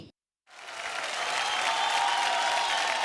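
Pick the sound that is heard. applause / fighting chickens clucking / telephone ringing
applause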